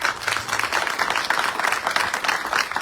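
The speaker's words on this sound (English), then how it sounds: "maybe another round of applause for all of you." Audience at a Bermuda Police Service promotion ceremony gives a round of applause, a dense, even wash of many hands clapping close and loud throughout.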